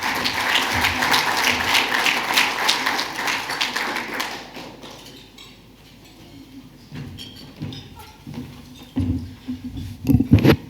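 An audience at a Rotary Club of Adelaide meeting applauds a guest speaker with dense, loud clapping for about four seconds, then it fades into quieter room noise with scattered thumps and taps.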